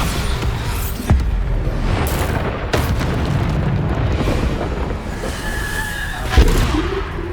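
A Bombarda spell explodes in the Hogwarts Legacy video game, with deep booming blasts and sharp bursts repeating over several seconds against a loud, dense background of game combat.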